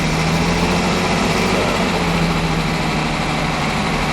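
The V12 of a 1965 Lamborghini 350 GT idles on choke, a loud, continuous, rough engine rumble that holds steady and close throughout, with no voices over it.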